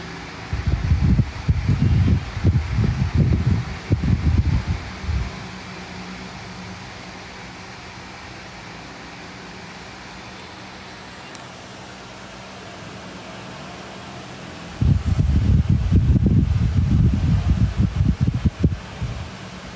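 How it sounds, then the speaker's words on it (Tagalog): An electric fan runs with a steady low whirring drone, heard alone through a long middle stretch and masked by louder rumbling bursts at the beginning and end. "Ang ingay ng electric fan."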